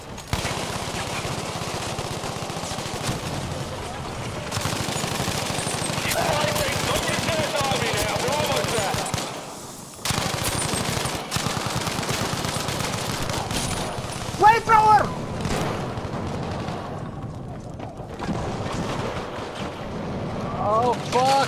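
Sustained battlefield gunfire in Battlefield V, rapid automatic bursts and shots layered over explosions and ambient combat noise, loud and continuous with brief lulls, while players talk over it.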